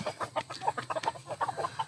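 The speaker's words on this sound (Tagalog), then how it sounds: "meron tayong 17 na mga manok dito" Several farm chickens cluck in a busy, overlapping chorus of short repeated calls, close and fairly steady throughout.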